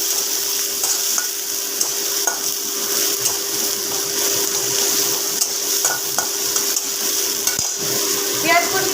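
Chopped onion frying in hot oil with a pinch of turmeric, a constant close sizzle with scattered clicks and scrapes of a spoon stirring against the pan, and no talking.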